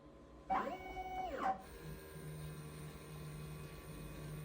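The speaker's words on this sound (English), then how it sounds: "When that is done, you're going to do a nozzle check." A DTF printer runs a nozzle check with a close, whirring motor whine that rises, holds for about a second, then falls away. A faint steady hum continues afterward.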